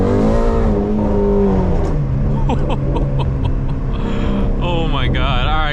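Shelby GT350 race car engine running loud and close, a steady heavy drone with rising and falling revs, under a voice talking throughout.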